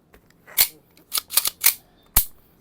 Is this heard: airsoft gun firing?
yes